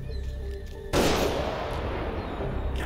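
A single sharp gunshot fired in the video game Road 96, a loud broadband blast partway in that decays into a sustained noisy tail over steady low background hum.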